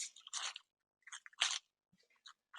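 Crisp, close crunching of a kale salad with roasted apples, heard as a few separate bites and chews with brief silent gaps between them, with no talk.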